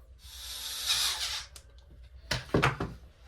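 Electric driver whirs briefly, driving a screw into an RC beadlock wheel, then gives way to several sharp close clicks and handling knocks.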